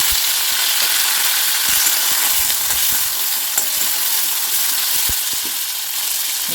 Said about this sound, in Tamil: இப்போ நம்மளோட தக்காளி வந்து நல்லா வதங்கிடுச்சு.